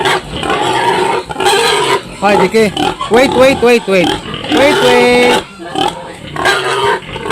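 Finishing-stage pigs squeal and grunt loudly and excitedly while eating, in close, overlapping bursts, with a person speaking briefly between the noisy cries.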